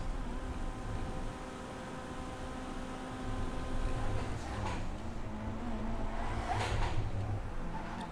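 A Flash GT sports car in GTA 5 drifting around corners with a steady engine drone whose pitch shifts and rises midway, plus faint tyre noise, heard alone and continuous.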